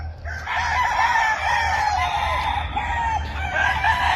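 A stag gamecock rooster crows close and loud, with several other roosters crowing and clucking together in an overlapping chorus over a low rumble.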